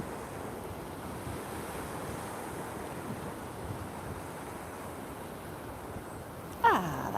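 Waves gently lapping on Cleveleys beach, a steady soft wash of surf mixed with wind noise on the microphone, continuous and fairly faint, with a brief bump near the end.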